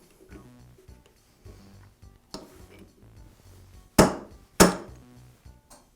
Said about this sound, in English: Now I'm going to tap this whole assembly against my vise, and that'll pop the taper out of the chuck.